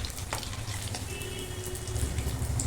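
Bread rolls frying in hot oil give a steady, close sizzle with fine crackling and a few soft bubbling pops, continuous and fairly loud throughout with no talking.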